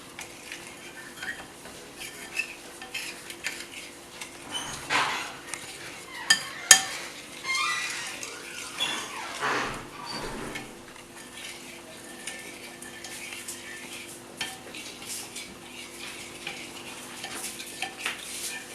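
Custard mixture being stirred in a pot in a home kitchen, a soft steady scraping and swirling close by with occasional light clinks of utensil against the pot, fairly quiet throughout.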